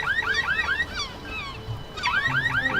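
Loud electronic car alarm from the PC game Black Mirror II: Reigning Evil cycles through rapid repeating warbles, drops away briefly in the middle, then resumes with the same fast chirping pattern.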